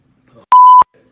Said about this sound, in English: Oh, that beep was loud.